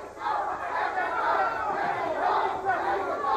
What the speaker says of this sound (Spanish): aunque el público empiece a vitorear México, México